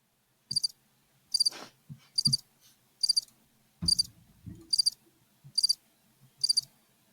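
A cricket chirping sound effect played from a button on a podcast, eight evenly spaced bursts of high, trilling chirps with faint low thumps beneath, close and clear with no talk.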